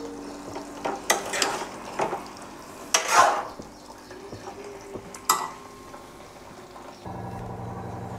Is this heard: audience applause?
no